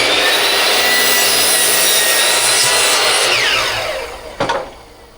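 Wood being cut by hand on a second cut gives loud, continuous rasping saw strokes that end abruptly with a short knock and then quiet.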